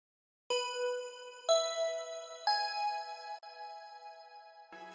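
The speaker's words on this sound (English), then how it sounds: "Next up is this bell lead, which just doubles some chorus parts." A synth bell lead doubling chorus parts in a song: four bright, ringing bell notes struck one per beat, each sustaining with a shimmering tail, then a lower note entering at the end, clean and alone.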